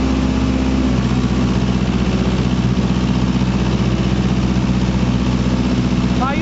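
A Mahindra NOVO 655 tractor engine runs steadily with a 9-foot Param rotavator in black clay soil, its loud, continuous diesel drone holding even throughout.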